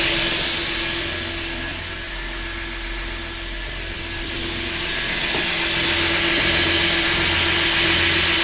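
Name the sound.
electric fan running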